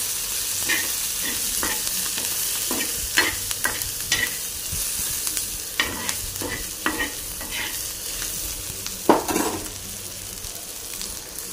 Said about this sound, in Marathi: परतून घ्यायचं असं मस्त मस्त